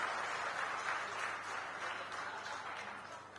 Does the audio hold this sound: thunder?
no